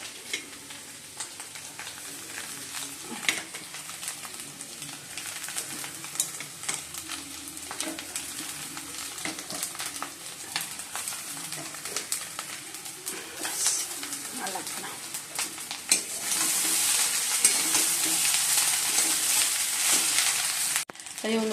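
Rice frying and being stirred in a pan, a steady close sizzle with scraping stirs that grows louder near the end, bird coos faint in the background.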